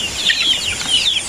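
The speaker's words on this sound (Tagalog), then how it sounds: "Ito yung mga manok natin guys." A flock of backyard chickens cluck and chirp busily together, close and loud, a dense overlapping chatter of short calls with no voices.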